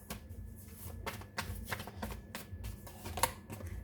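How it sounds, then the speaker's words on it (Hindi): Tarot cards are shuffled by hand in quick repeated riffles, soft close papery flutters with brief pauses between them. "कार्ड्स जल्दी जल्दी आ रहे हैं आपके लिए और मुझे शफल करना है अच्छे से"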